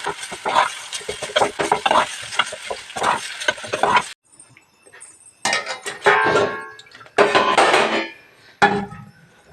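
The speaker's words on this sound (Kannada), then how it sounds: "ಇವಾಗ ಆಲೂಗೆಡ್ಡೆನ ಹಾಕ್ಕೊಂಡು ಈಗ ಚೆನ್ನಾಗಿ ಒಂದ್ಸಲಿ ಮಿಕ್ಸ್ ಮಾಡ್ಕೋಬೇಕು" Boiled potato filling for egg bonda is mixed in a pan, giving close scraping and stirring sounds in uneven bursts, with a short quiet pause partway through.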